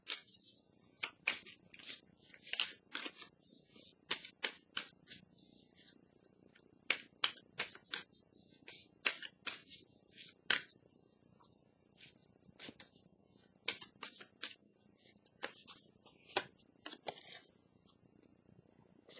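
Tarot cards shuffled by hand in a quiet room, a steady run of crisp riffling clicks and taps coming in bursts, close and moderately soft, with no speech.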